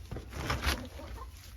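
A hen in a chicken coop gives a few soft, low clucks up close, faint against a quiet background.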